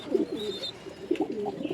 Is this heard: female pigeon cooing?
yes